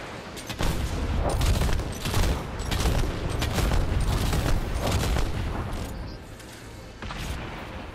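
Gunfire in the video game Earthfall: dense, continuous rattling bursts of shots and booms fill the whole stretch, loud and close, easing slightly near the end.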